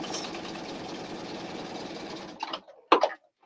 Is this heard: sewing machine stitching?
yes